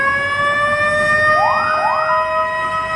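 A fire engine siren sounds as the fire brigade pulls away from a near-fire at Makassar prison, two rising wails over a steady loud tone and a rumbling truck engine.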